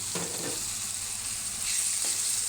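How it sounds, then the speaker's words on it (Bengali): Chopped onion, garlic and tomato frying in a pan as the base of a fish bhuna, a steady close sizzle with a few stirring scrapes and a hiss that brightens toward the end; no talk. "আমি প্রথমে পেঁয়াজ কুচি, রসুন কুচি এবং দিয়ে দিলাম টমেটো"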